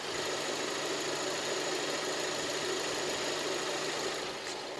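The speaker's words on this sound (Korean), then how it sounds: "바로 엔진 소리 한번 들려드릴게요." Renault Samsung SM6 sedan engine with 70,000 km idles steadily for several seconds, a close, even mechanical hum and rattle with no talking.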